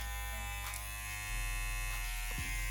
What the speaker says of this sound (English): original premier guards will fit on this clipper without making noise.